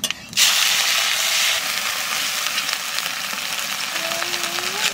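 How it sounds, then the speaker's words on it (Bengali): Cumin, dried chilli, ginger and green chilli paste hit hot oil with a sudden loud sizzle. The sizzle settles into a steady close crackle with faint stirring clinks and a brief whistling tone near the end. "তেলের উপরে দেবো জিরে আর শুকানো লঙ্কা, এবার কুটে রাখা আদা আর কাঁচা লঙ্কা বাটাটা দেবো।"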